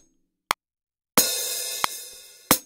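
A few sharp percussive hits land at uneven moments, with one long noisy crash sustaining between them, sounding disjointed and off the beat.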